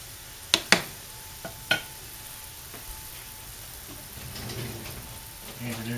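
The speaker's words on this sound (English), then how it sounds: "now that the mixture has come to a boil, we'll reduce it to medium heat" A mixture bubbles at a steady boil in a pot on a stove. A few sharp utensil clinks come first, then a continuous soft hiss that swells slightly toward the end.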